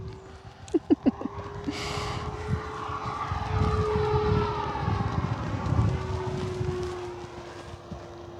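An FMS T-28D Trojan 1.4 m RC model airplane drones overhead with a steady propeller hum that swells and fades as it passes, preceded by a few sharp knocks and a short burst of noise.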